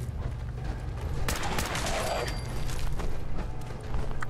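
Weapon fire in Fallout 4 from an upgraded gun: a dense run of sharp shots and impacts with mechanical clatter, fairly loud and steady over several seconds.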